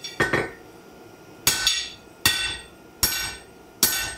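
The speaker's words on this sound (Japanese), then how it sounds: "これキンキン言うでしょ、ハンマーの方が。" A blacksmith's hammer strikes hot, full-steel stock on an anvil at a forge, giving five sharp, bright metallic rings at a steady pace, each one ringing briefly before decaying, close and clear without talk.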